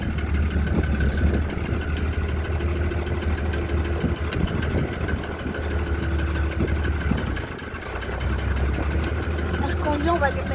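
Farm tractor driving and reversing while pulling a hose reel, its steady mid-pitched engine drone running continuously at close range, with a person talking over it.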